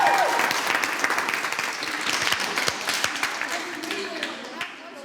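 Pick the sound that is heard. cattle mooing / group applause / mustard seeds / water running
group applause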